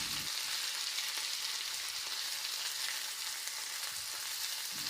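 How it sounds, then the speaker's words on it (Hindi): Mung dal pakodas frying in hot oil, a steady, dense sizzle and crackle throughout, fairly close and uninterrupted by any talking. "तेल में जाने के बाद भजिए ऐसी राहत की सांस लेने लगे जैसे तेल में नहाने के लिए सदियों से बेकरार थे"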